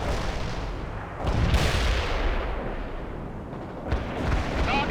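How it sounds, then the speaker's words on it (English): Medium artillery fire in the video game World in Conflict lands as heavy, rumbling blasts, with a loud burst after about a second and another near the end over a continuous roar of battle. "Need some medium artillery?"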